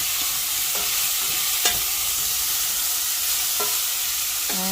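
Chicken and potatoes fry loudly in a pan under a steady, dense sizzle, with a few scraping strokes of a spatula as they are stirred. There is no talking.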